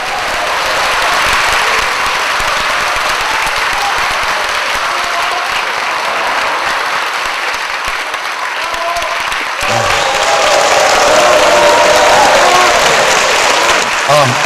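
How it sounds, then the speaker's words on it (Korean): Sustained audience applause fills a Korean public economics lecture broadcast as the guest lecturer is welcomed, steady and dense throughout and swelling slightly louder near the end, with a few cheers mixed in. "박수로 맞아주십시오."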